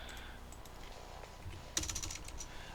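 Fingers tapping on a computer keyboard while writing JavaScript code, a steady run of light clicks that turns into a denser, slightly louder burst of keystrokes near the end, close and with no talking.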